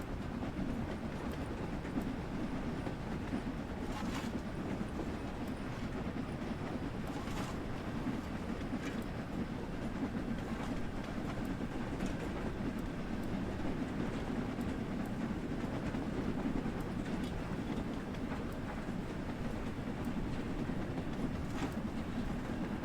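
LMS Jubilee 6P steam locomotive running in Train Sim World 6: a steady rolling rumble with faint rhythmic clatter from the rails, continuous and even, with no voices.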